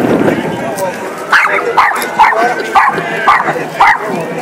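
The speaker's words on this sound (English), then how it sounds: "Look at that cute dog." Dog at a Christmas parade in Wells, Maine, giving a series of short, evenly spaced barks or yips close by, about six in a row, with people talking and parade noise underneath.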